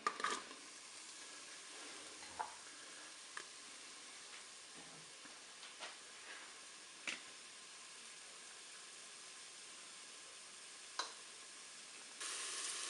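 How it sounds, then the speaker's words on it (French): Onions frying in hot oil inside a Cookeo multicooker, a steady soft sizzle running throughout with a few brief crackles and pops, fairly quiet and with no voices. "mon huile est chaude, je vais mettre mes oignons"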